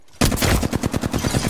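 Automatic gunfire from the Apex Legends video game bursts in suddenly and loud, a rapid string of about a dozen evenly spaced shots.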